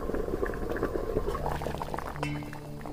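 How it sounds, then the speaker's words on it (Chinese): Water boiling in a steamer pot before hairtail fish goes in, a steady close bubbling and churning with a brief clatter near the end. "水烧开后，将带鱼放入蒸锅"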